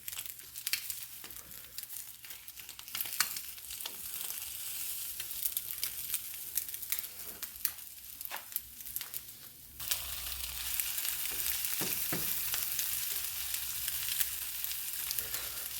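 An omelet fries and sizzles in a pan, a steady crackling hiss with scattered sharp pops and spatula scrapes, growing denser and louder after it is flipped; no one speaks.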